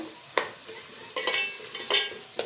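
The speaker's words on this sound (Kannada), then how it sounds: "ಈರುಳ್ಳಿ ಚೆನ್ನಾಗಿ ಫ್ರೈ ಆಗಲಿ" Sliced onions frying in oil while being stirred in a pan, a steady sizzle with three loud scraping strokes of a spatula, close and without talking.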